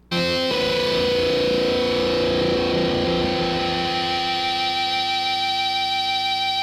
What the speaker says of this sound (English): the Boss DF2 Super Feedbacker